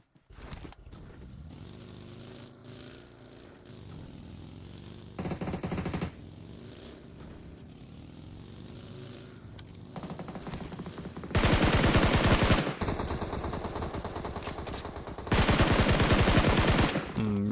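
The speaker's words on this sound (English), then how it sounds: "Nova getting hit and shot at. Ooh, Nova definitely laying down the shots there." Gunfire in the PUBG Mobile battle royale game during an esports match: a short burst early on, then two long, loud bursts of rapid automatic fire later, with quieter distant shots and movement in between.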